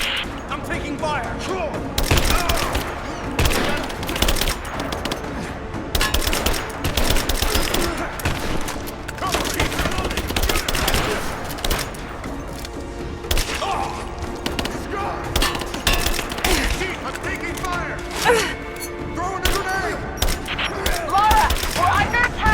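Sustained gunfire in the Rise of the Tomb Raider video game: rapid overlapping volleys and thuds fire almost continuously at high volume, with voices heard intermittently through the firefight.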